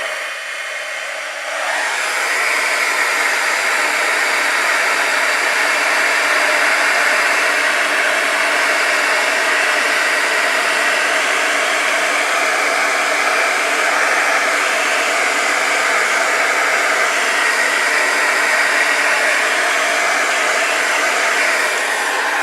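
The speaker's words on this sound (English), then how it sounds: "you're going to take a heat gun and you're going to melt that" A heat gun melting embossing powder on aluminum foil switches on after a brief quiet moment, then blows a loud, steady, even hiss-roar for about twenty seconds with no talking.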